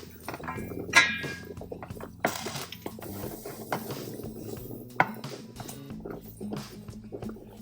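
Onions, shallot and thyme stirred in a cooking pot, with scattered scraping, clinking utensil knocks and soft sizzling, close and fairly quiet, no talking.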